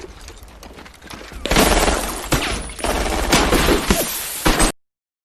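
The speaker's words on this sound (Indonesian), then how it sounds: "Suara tembakan dari kedua kubu" Dense bursts of gunfire in a war film, rapid automatic shots overlapping with heavier blasts, loud and sustained for several seconds before cutting off abruptly.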